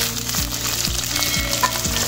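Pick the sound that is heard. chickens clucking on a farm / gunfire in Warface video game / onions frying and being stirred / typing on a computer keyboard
onions frying and being stirred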